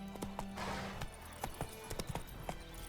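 Horse hooves clip-clop at an easy pace in The Witcher 3, close and fairly quiet, with a short rushing swell and a faint snort mixed in.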